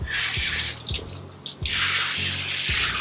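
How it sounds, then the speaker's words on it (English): Tap water runs steadily while a cat is rinsed of shampoo in a sink, with soft splashes and drips as water is cupped over her head, near and continuous with a short lull mid-clip. "I cup the water in my hand and really try to get that shampoo off from around her ears and her face."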